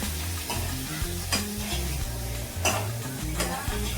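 Chopped onion petals for paneer chilli fry steadily in a hot pan, with a close, continuous sizzle and repeated stirring scrapes and clinks of the spatula against the pan.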